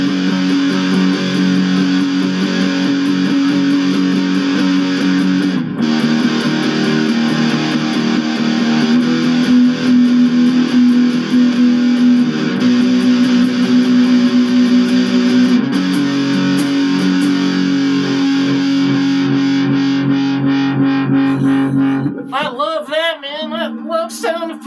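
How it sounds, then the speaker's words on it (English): A heavily distorted Ibanez miKro GRGM21 short-scale electric guitar through a metalcore distortion pedal plays sustained chugging chords and notes continuously, loud and saturated, ending with a burst of squealing feedback-like tones. "what I got going now is the new X Metalcore distortion pedal"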